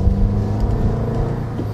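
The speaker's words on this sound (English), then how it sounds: "Honestly, it's a very quiet exhaust, to be honest with you." A 2015-17 Subaru WRX with a Cobb exhaust and Grimmspeed downpipe hums a steady, low exhaust drone while cruising with windows down, smooth and fairly subdued with no sharp revs.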